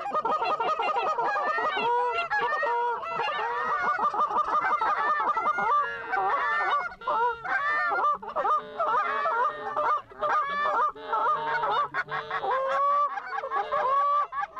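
Flock of geese honking overhead during a waterfowl hunt, many overlapping calls continuing steadily for the whole stretch, loud and close, with no talk over them.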